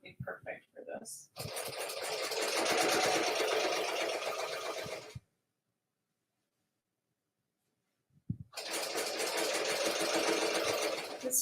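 A sewing machine stitches quilt pieces in two steady, close runs of rapid whirring, separated by a few seconds of silence, with a few short soft sounds before the first run.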